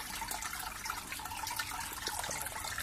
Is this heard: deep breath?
no